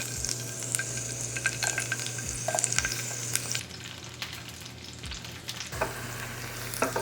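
Garlic sizzling in warm olive oil in a pan, a steady bright crackling fry with occasional stirring scrapes and clinks throughout, close and fairly loud.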